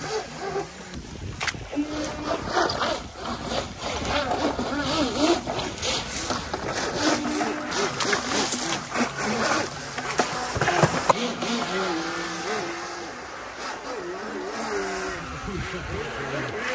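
A small motor on a 3D-printed RC boat whines and buzzes over rushing rapids, revving unevenly as it struggles, with voices talking and shouting throughout.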